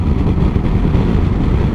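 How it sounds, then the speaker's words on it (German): A 2022 Kawasaki Versys 650 motorcycle engine and exhaust heard while riding, a loud, steady low rumble mixed with wind buffeting, with no distinct revving. "der Motor ist schon sehr leise und beziehungsweise der Auspuff"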